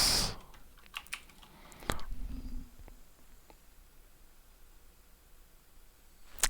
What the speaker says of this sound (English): We can type this into our calculator.